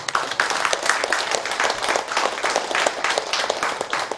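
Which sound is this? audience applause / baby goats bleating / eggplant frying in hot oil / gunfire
audience applause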